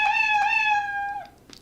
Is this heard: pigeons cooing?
no